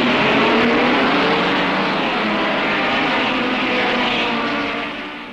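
Ford Escort and Mini saloon cars of the smaller classes pulling away at the start of a 20-lap heat in the 1968 British Saloon Car Championship, a loud sustained roar of massed engines with no speech, easing slightly at the end.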